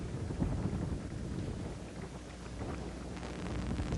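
Wind gusting across an open golf course at a US Open round, a steady broadband rush of moderate loudness with a low rumble, swelling slightly toward the end without talk.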